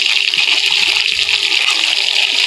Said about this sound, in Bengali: আমি এই ফার্স্ট টাইম লোটে মাছ ফ্রাইটা করছি